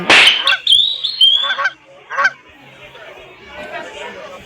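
A duck in the Meena-2 video game gives several close, nasal honks in quick succession, then fades to softer chatter-like background sound.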